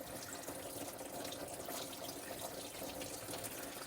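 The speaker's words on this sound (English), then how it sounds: "You're definitely going to want that pan down there to catch some of this coolant." Engine coolant drains from a 2011-or-later Ford F150 5.0 V8 during water pump replacement into a catch pan: steady rushing, splashing liquid pours continuously at close range, a dense wash of water-like noise with no voices.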